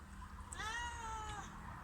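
A stray cat gives a single drawn-out, rising-then-falling meow at close range, standing clearly above a low background rumble.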